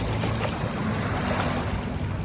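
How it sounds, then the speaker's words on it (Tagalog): Strong sea waves break continuously along the Manila Bay shoreline beside a geotextile-lined bank, a dense, steady wash of surf and wind with no voices. "pag ganito na malakas ang alon"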